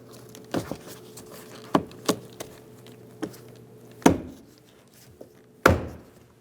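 Plastic trim piece being snapped onto the rear door of a 2001-2006 Chevrolet Silverado 2500 HD, with a series of sharp clicks and thunks at irregular intervals, the last few louder and close by.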